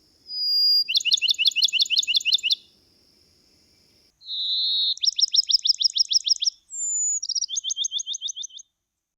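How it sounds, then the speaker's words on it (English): Bachman's sparrow, a bird of grass, palmetto scrub and dry open pine woods in the southern US, sings three loud, close songs in turn; each opens with a clear sustained whistle and runs into a rapid trill, with short silences between. "The Bachman sparrow, which favors grass and palmetto scrub and dry open pine woods of the south, has a lovely varied song"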